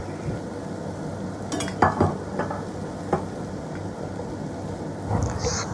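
Onions and capsicum are stirred in a pan for vegetable cheese pasta, with scattered metallic clinks and scrapes of the spoon against the cookware over a low steady background, a few sharper knocks standing out.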